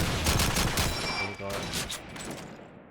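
Rapid bursts of gunfire in a Call of Duty 2 competitive match on the Dawnville map, dense rattling shots layered under game ambience before fading out.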